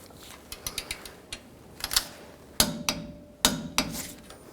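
Metallic clicks and taps from a torque wrench tightening a nut on a rear shock of a Ford E-250 van, a few scattered light ticks building to several sharper, louder clacks near the end.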